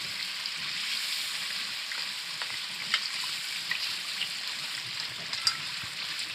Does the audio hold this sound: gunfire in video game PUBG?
no